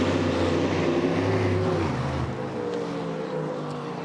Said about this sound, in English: Those Cadillacs do sound very good, even on takeover.